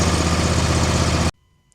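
A 2026 John Deere Z545R riding mower engine idles loud and close with a steady low rumble, then cuts off abruptly into near silence.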